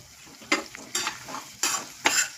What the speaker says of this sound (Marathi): आणि हे परतत आहे